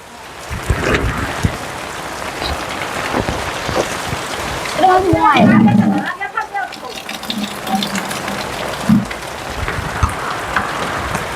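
Steady rain falls on a rural homestead on a rainy day, a continuous broadband hiss of drops on surfaces with a few louder splashes, while people talk intermittently over it.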